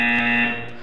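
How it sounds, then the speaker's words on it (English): Test-chamber buzzer in the Portal 2 video game, a single loud, steady electronic buzz with a rich harmonic tone that fades slightly at the end. "You will hear the buzzer. When you hear the buzzer, look up at the ceiling."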